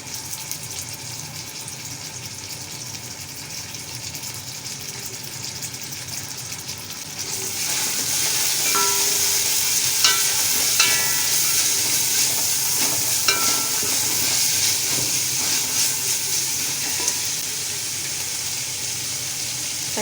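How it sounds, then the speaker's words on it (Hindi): Onions fry in a pan with garlic-ginger paste added partway through; a steady sizzle swells louder and brighter as the paste hits the oil, with a few clinks and stirring sounds and no talking. "प्याज बिल्कुल गोल्डन फ्राई हो चुकी है। उसमें जाएगा लहसुन अदरक का"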